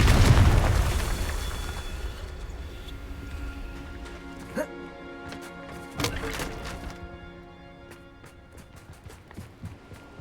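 A Confringo blasting spell goes off in a wizarding video game with a loud boom at the start, then debris crackles and sharp impacts scattered through the rest, over a game score.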